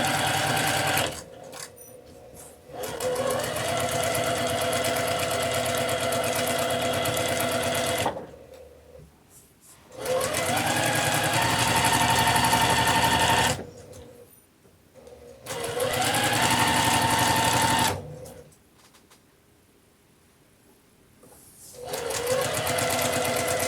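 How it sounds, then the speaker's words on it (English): Domestic sewing machine stitching a seam joining two pieces of scarf fabric, running in three sustained bursts with short pauses between them as pins are pulled, close and steady, with no talking. "I'm going to follow my tape all the way down my fabric, pulling my pins out as I go."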